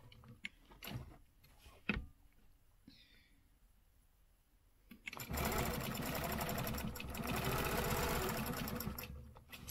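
After a few clicks and soft handling knocks, a sewing machine starts up close by and stitches steadily for several seconds with a fast, even needle rhythm.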